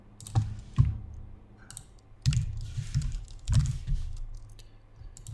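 Someone types on a computer keyboard in short bursts of soft, close clicks and key thumps with brief pauses between, with no talking.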